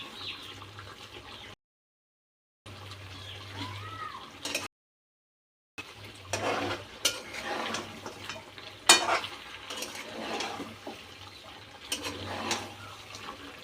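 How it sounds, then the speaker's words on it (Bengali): A spice mixture cooking down in a covered pan, with the lid lifted repeatedly for stirring. Soft, steady frying and scraping comes and goes, broken by two short silent gaps, with a few sharper clinks near the middle. "এবার আমি ঢেকে ঢেকে বারবার ঢাকনা খুলে ঢেকে এটা কষিয়ে নেব"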